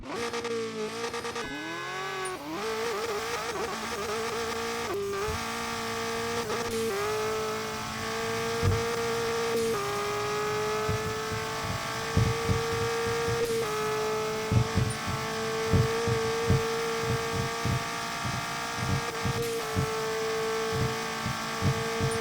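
A race car engine in the racing game RevHead screams at high revs in a run for top speed, its pitch climbing and then dropping sharply at each gear change, loud and steady throughout.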